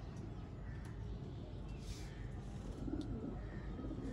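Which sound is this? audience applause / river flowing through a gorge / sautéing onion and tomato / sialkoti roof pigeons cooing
sialkoti roof pigeons cooing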